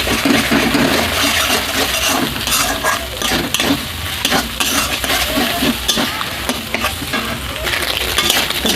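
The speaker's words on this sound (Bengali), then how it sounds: "ডিমটাকে ভুজিয়া করে ভেজে নেব।" Beaten salted egg frying in a pan, a loud continuous sizzle with repeated stirring and scraping strokes, close up with no voices.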